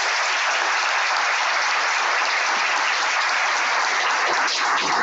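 Sustained, loud audience applause at a political speech in Spain, dense clapping filling the whole stretch with steady intensity and no voices over it.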